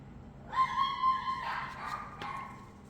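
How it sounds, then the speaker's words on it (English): Dogs barking outside a house, one drawn-out whining bark followed by a couple of shorter yelps, moderately distant and alone over a faint background. "He's upsetting all the dogs."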